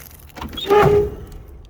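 A short mechanical squeak and grinding as the stuck window of a 1954 Packard Cavalier is cranked, rising briefly then fading, close and fairly quiet.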